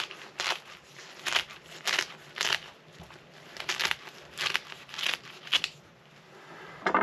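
Knife cutting a core segment out of a green luffa, a series of sharp crisp crunching slices in a loose rhythm, close and fairly quiet.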